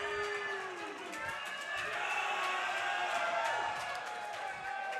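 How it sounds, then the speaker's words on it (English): A live crowd at a Guilty Gear Strive fighting-game tournament top 8 reacts with a mix of cheers and boos, rising and falling across a few seconds, with a commentator talking over the noise. "I see the crowd giving these players the energy real quick. I heard woo and I heard boo."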